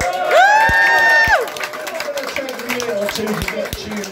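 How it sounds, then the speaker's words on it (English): A crowd at a blues concert cheers and applauds, a loud whoop opening the burst before it settles into scattered clapping and shouts. "Give a big round of applause."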